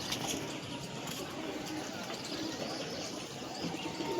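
Pigeons of Malbai and Punjabi breeds at a home pigeon sale, cooing softly and steadily amid a dense, noisy background with faint chirps.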